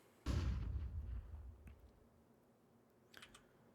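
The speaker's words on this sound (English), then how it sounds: "Throwing flashbang." A flashbang grenade goes off on Dust2 in Counter-Strike, one sharp blast followed by a ringing decay and faint clicks afterward.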